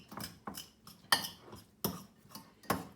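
Tuna salad with mayonnaise being mixed in a bowl, with a utensil scraping and clinking against the bowl in a regular rhythm of about six firm, close strokes.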